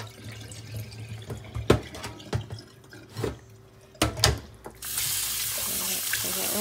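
A tap is turned on for rinsing, and the water runs in a steady, fairly loud stream through the last couple of seconds. Light clinks and drips come before it.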